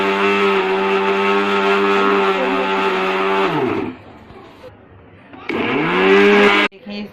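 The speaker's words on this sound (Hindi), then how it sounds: "करेंगे अपने जार को लॉक, और सारे इंग्रेडिएंट बढ़िया से आपस में पीस लेंगे।" A mixer grinder jar whirs as it grinds minced chicken with kebab ingredients, a loud steady motor drone running for several seconds, cutting out briefly, then starting again in a short final burst before stopping.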